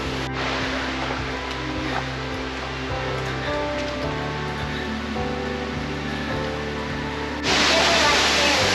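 A waterfall on a hike in Kentucky gives a steady, dense roar of falling water, heard close from underneath; it grows louder near the end, with a person talking over it.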